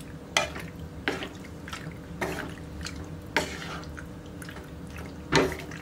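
Red sauce pasta being stirred in a pan: a utensil scrapes and taps against the pan in a few distinct strokes, with soft wet sloshing between them, close and fairly quiet, with no talking.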